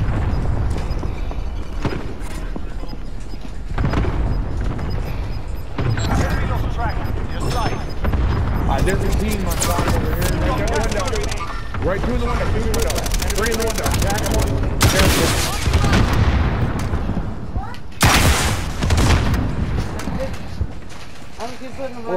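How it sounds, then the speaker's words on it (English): Cluster strike explosions and heavy gunfire from a Call of Duty match roar almost nonstop: rapid automatic bursts, booming blasts and rumbling impacts, loud throughout, with players talking over the din. "Allied cluster strike inbound."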